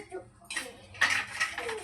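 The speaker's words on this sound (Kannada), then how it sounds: "ಪಾತ್ರೆ ಇದ್ದು ಸ್ವಲ್ಪ ಪಾತ್ರೆ ತೊಳಿತಾ ಇದ್ದೀನಿ." Metal utensils and pots clatter and clink in a home kitchen during dishwashing, brief close knocks with running scrapes, and a faint voice in the background.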